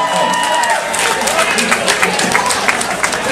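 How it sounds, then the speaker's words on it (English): Audience applause at the JoCo Cruise Crazy 5 welcoming cocktail event, a steady wash of many hands clapping that fills the room at even loudness throughout, with some murmuring under it. "By a round of applause."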